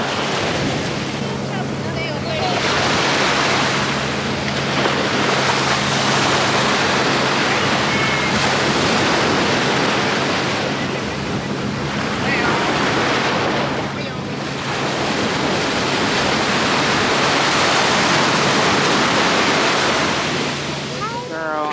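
Ocean surf at a Punta Cana beach keeps crashing and washing in, loud and close, with gusts of wind buffeting the microphone; the waves build and fall back in slow surges.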